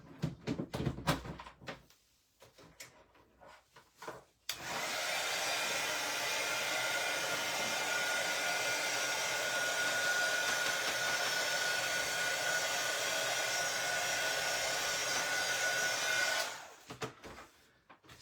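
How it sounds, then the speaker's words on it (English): A heat gun runs steadily for about twelve seconds after a few quiet knocks, its broad blowing hiss starting abruptly and cutting off just as suddenly, fairly loud and close. "And I'm going to plug my heat gun in."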